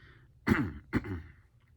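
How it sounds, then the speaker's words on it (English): Someone clears their throat twice in quick succession, close and fairly loud, with quiet room tone around it. "I had to clear my throat there."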